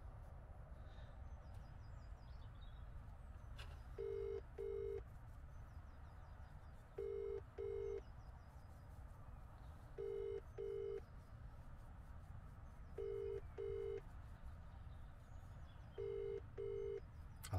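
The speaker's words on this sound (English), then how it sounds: "let's make a phone call." A telephone call on a mobile network: faint line hiss, then a repeating pattern of paired electronic ringback tones, about one pair every three seconds, steady and clear with no talking.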